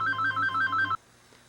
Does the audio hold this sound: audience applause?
no